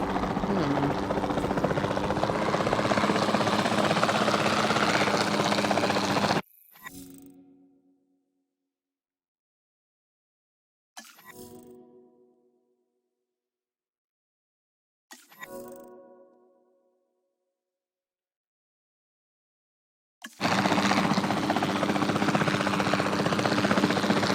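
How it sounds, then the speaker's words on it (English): A capture team helicopter in the video game Jurassic World roars loudly and steadily, then drops out into silence broken by three short fading bursts before the heavy rotor drone returns at full strength. "Then the sensible thing is to take a capture team helicopter."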